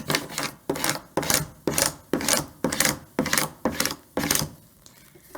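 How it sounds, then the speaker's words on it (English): Vinyl transfer tape for a Cricut project is burnished with a tool in about nine quick, even rubbing strokes, each a loud, close scrape in a steady rhythm. "And for good measure, I'm just going to burnish one more time."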